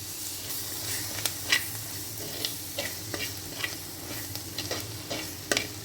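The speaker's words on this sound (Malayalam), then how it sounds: "അതിട്ട് കൊടുത്ത് നന്നായി വഴറ്റിയെടുക്കുക." Half a small tomato sautéing with masala in coconut oil in a pan for Kerala pork curry, giving a steady close sizzle and hiss broken by sharp stirring scrapes, with no voices.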